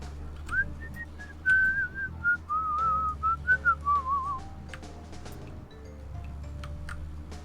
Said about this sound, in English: Don't you whistle at me,